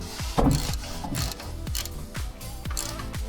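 A hand ratchet clicks in quick bursts while tightening a 14 mm bolt on the belt tensioner of a Mazda Miata, the sharp metallic pawl ticks close and distinct with no talking.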